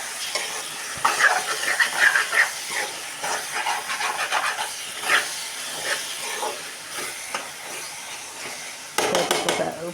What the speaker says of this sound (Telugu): ఉల్లిపాయలు పచ్చిమిరపకాయలు టమాటాలు కూడా బాగా మగ్గుతున్నాయి కదా